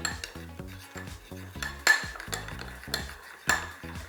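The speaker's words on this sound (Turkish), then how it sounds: "Şimdi buraya güzel bir karıştırıyorum." A spoon clinks and scrapes against a bowl while turmeric, black pepper and salt are mixed together for a salmon rub, giving a quick series of close metallic taps and stirring strokes with no talk.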